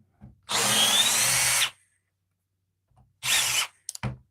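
A compact Milwaukee M12 power drill drives a screw into wood in two loud, close bursts, a long run of about a second followed by a shorter one, with a brief stuttering tail as the bit stops.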